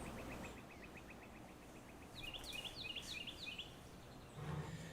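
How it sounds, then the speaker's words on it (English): A Carolina wren sings outside, picked up faintly through a window microphone: a short run of quick repeated chirping phrases, distant and soft over a steady low background hum. "I hear a Carolina wren."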